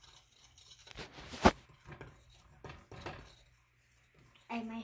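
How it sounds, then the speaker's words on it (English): A spoon stirs a flour mixture in a bowl, with several sharp clinks and scrapes of utensil against the bowl, irregular and close, mixed with brief quiet speech. "Stir it up real good in the flour. Mix it in."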